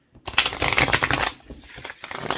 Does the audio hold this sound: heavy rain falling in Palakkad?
no